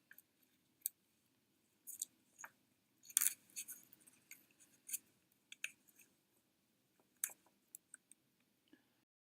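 Small scissors snip at rubber pieces on a Beats Solo 3 Wireless headphone headband, producing a series of close, quiet, sharp clicks and snips at irregular intervals against near silence.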